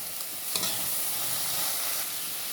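Egg being stirred into sautéed bitter gourd (ginisang ampalaya) in a hot pan, a continuous loud hissing sizzle with a brief scrape of the spatula near the start and no talking.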